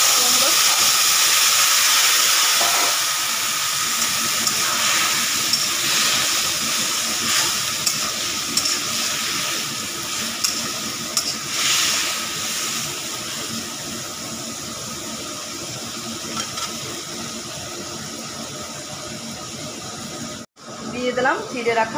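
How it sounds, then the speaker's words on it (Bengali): Pumpkin greens hitting a pan of frying garlic and bori lentil dumplings give a steady, loud hiss and sizzle that slowly eases over about twenty seconds, with some stirring and clatter and a brief dropout near the end. "রসুন আর বড়িটা আমার ভাজা ভাজা হয়ে গিয়েছে, দিয়ে দিলাম কুমড়োর শাক।"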